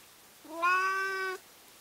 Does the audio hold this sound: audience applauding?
no